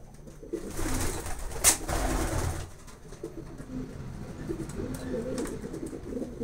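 Pigeons in a loft coo low and steady. A soft rumbling call repeats at close range, and a brief rustle or flutter comes near the start.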